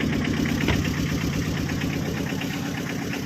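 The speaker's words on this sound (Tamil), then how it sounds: "வாங்க வண்டியை ஓட்டி காமிக்கிறேன்." A Tata Ace HT mini truck engine idles steadily and close by, a continuous low, knocking diesel chug with a faint rhythmic rattle and no voices.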